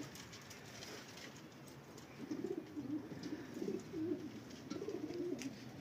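Pigeons coo softly in a quiet outdoor spot, a few low rolling coos starting partway in and repeating over a faint steady background hiss.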